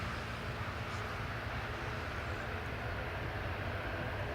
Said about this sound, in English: There we go, that's EasyJet rolling.